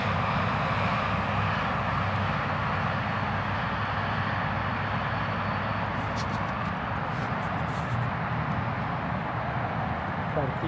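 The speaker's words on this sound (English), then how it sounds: "We need kind of a low flyby for perspective." EPP Eagle RC airplane making a low pass, its engine a steady broadband drone that stays loud and near for the whole stretch with no clear approach or fade.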